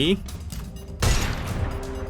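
Gunfire erupts in a shooter video game, a sharp burst of shots landing partway through amid ongoing game sounds, with a player talking over the action.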